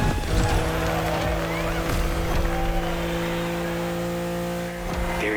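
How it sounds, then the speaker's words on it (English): A BMW M4 LBWK edition races in a driving video game, its engine droning loud and constant with harmonic whine, a brief tire squeal and skid sounds layered over the steady run. "Back with the BMW M4 Lbwk edition. My firm favorite of the day. Moving to second gear."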